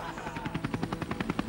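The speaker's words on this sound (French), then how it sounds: "Et Speedy Kounas, c'est quoi ces hélicos qui arrivent là?" Helicopters arriving in a satirical puppet comedy sketch, a rapid rhythmic rotor chop pulsing steadily and fairly loud throughout, with no talk over it.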